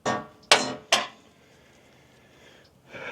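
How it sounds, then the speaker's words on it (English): A hammer strikes a steel pickle fork on a Jeep Gladiator's steering linkage three times in quick succession, each a sharp metallic ring, followed by a brief quiet and a fainter clank. "I had to hammer it all the way in and then pry down with the drag link to get it to pop free"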